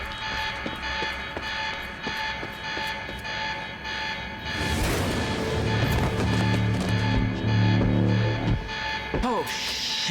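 An alarm blares in the video game Quantum Break, a steady repeating buzz over rumbling machinery and game action, with a voice briefly heard amid the noise.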